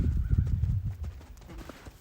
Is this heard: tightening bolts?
no